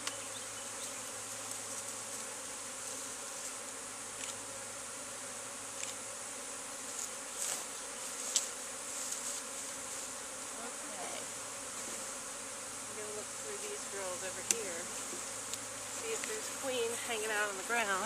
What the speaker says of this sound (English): See all the bees? So cool.